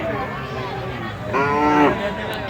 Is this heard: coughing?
no